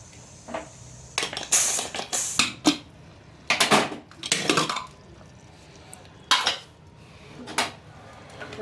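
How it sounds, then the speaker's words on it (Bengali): Metal clanks and clatters as a pressure cooker lid is opened after cooking lau dal, with several sharp, close knocks of the pot and lid separated by quiet gaps. "এখন আমি ঢাকনাটাকে খুলছি"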